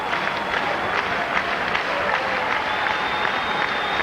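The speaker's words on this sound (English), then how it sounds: "These fans into it right to the last out. I think they'd be worn out from cheering today." Stadium crowd at a 1999 Red Sox home game against the White Sox cheering and clapping steadily late in the game, a dense, sustained roar of applause with no pauses.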